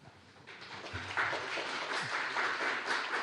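An audience at a speech contest for deafblind speakers applauds to welcome the next speaker, a short, steady wash of clapping that swells slightly and holds at moderate loudness.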